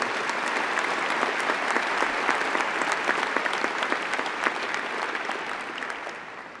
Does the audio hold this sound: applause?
yes